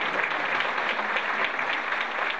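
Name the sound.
audience applause for musicians on stage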